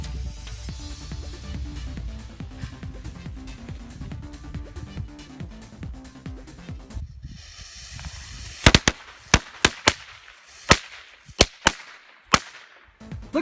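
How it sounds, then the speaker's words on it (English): Firecrackers and fireworks set off on a Batman action figure: a crackling, hissing burn gives way to a rapid, irregular string of loud, sharp bangs and pops close by, the last few spaced farther apart. "With all that firecracker dust on him."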